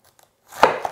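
Kitchen knife cutting the core out of a cabbage: a short crunchy slicing sound followed by a second small chop, close and crisp after near silence.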